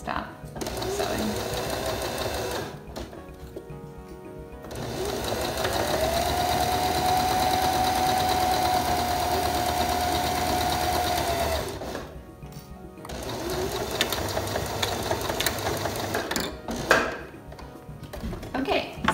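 A sewing machine stitches a cloth face mask with elastic, running in long steady whirring bursts with brief pauses between them, close and fairly loud.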